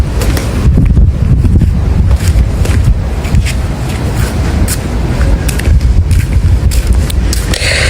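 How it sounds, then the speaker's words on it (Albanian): Caribbean sea waves and gusting wind at a resort beach, a steady loud broadband roar with wind buffeting the microphone throughout and no voices. "Këtu është deti. Një nga ato detet e mrekullueshme."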